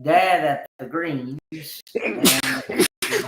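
A single sharp sneeze bursts out near the microphone between stretches of nearby conversation on a casual morning talk show.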